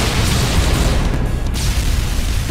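Soldiers open fire in a BlazBlue video game cutscene, a dense, loud rumble of booming gunfire and blasts that rolls on without pause.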